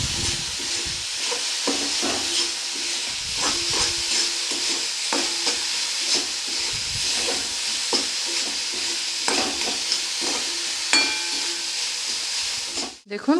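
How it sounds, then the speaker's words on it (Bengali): Coconut filling for patishapta pitha is stirred in a pan, a steady low sizzle and hiss under repeated scraping and tapping strokes of the spoon against the pan, continuous and fairly close. "এটা ভালোভাবে নেড়ে ছেড়ে একটা ঝরঝরে পুর তৈরি করতে হবে।"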